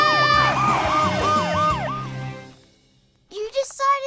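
A cartoon character's voice imitates emergency vehicle sirens, swooping wails rising and falling in a loud run, followed by a short pause and a brief burst of higher siren-like vocalizing.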